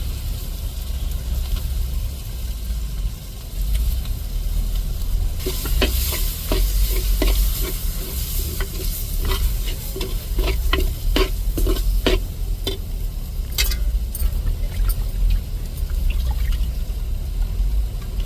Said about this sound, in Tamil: இப்போ தாளிப்பில் நம்ம மசாலாவெல்லாம் நல்லா வதக்கி விட்டாச்சு